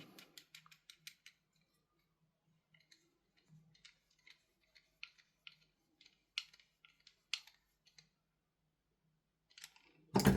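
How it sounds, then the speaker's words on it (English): Small sparse clicks and ticks of a flathead screw being driven back into an SSP5 airsoft pistol, faint and irregular, ending in a louder rustle. "So we'll screw this flathead back in."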